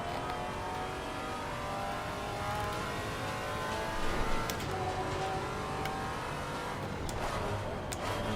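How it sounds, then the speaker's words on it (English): Race car engines in Assetto Corsa Competizione, a steady droning multi-tone engine whine with a faster car closing in, swelling slightly midway and near the end, heard from inside a Maserati GT4 cockpit. "Faster car coming up behind you."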